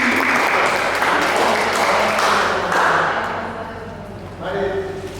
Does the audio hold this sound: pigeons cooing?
no